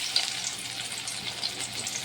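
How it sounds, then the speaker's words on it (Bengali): Bhadali leaf fritters fry in hot oil with a steady, close bubbling sizzle, small crackles rising now and then over the continuous hiss. "এখন আমি একটা একটা করে দেব।"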